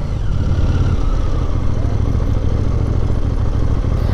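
A 2021 KTM Duke 890 motorcycle rides through busy city traffic in Lille, its engine giving a low, constant throbbing rumble with steady revs that holds close and loud throughout, with no voices.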